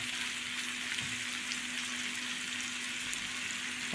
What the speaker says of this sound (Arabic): فنزلت كده الفلفل الاخضر بالشكل ده، هديها بس تقلبتين